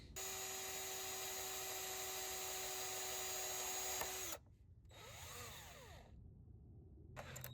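A power drill runs steadily with a loud whine for about four seconds, then stops; after a pause, shorter bursts of drilling and a revving pitch follow, on a 1997 Ford F-350 cab.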